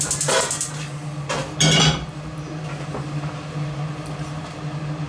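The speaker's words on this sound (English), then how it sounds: "Let's get the frying pan going." A frying pan being set on a stove in a home kitchen before chorizo goes in, giving a few sharp metallic clinks and clatters early on, then a low steady hum in the background.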